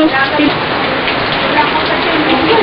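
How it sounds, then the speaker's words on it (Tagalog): Steady rain falls outdoors in a constant dense hiss of drops on surfaces, close and loud, with faint voices underneath. "Naulan dito sa inyo."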